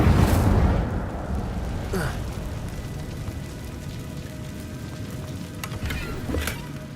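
Incendio fire spell cast in the Hogwarts Legacy video game: a burst of noisy whoosh at the start fades into a low rumbling wash, with brief sharp crackles and a few soft pops later.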